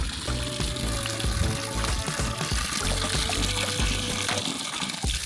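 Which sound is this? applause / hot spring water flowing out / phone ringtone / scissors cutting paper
hot spring water flowing out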